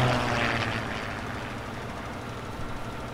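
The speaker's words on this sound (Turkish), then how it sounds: "Böyle uçaklar falan geçiyor." A propeller airplane passes overhead above rural livestock-farm grounds, a broad steady engine drone that is loudest at the start and slowly fades over a few seconds, with no talking.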